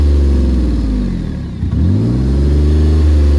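Pontiac G6 engine held wide open in drive, revving loud and steady close by, its pitch sagging briefly midway then climbing back to a sustained high-rev roar.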